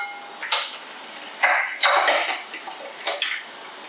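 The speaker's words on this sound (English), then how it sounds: "So this little chopper makes very fast work of chopping up the onion." A small manual chopper works through an onion in a home kitchen, giving several short, sharp clattering bursts at uneven intervals, close and fairly loud, with quiet gaps between them.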